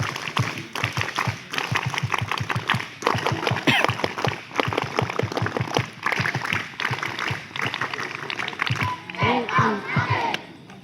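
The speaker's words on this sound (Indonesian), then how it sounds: "Tiga kali tepuk pramuka." A large scout crowd at a campfire gathering in Jepara performs the scout clap three times, a rhythmic burst of sharp group claps with shouts and cheering mixed in, loud and close, with a voice leading.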